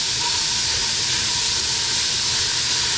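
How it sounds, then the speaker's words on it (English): Ground beef browning in a pan for a hamburger macaroni casserole, a steady, dense sizzle and hiss that holds evenly throughout without pauses or voices. "we're just gonna cook the ground beef until all the pinkness is gone"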